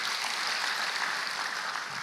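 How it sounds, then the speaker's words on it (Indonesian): Church congregation applauding during a sermon at a Jakarta church service, a dense, steady wash of clapping that holds evenly from start to finish with no talk over it. "Berikan tepuk tangan buat Tuhan Yesus."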